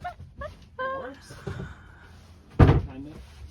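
A door in a tiny house thumps shut with one sharp, close slam after a few seconds, amid voices talking and small rustling sounds.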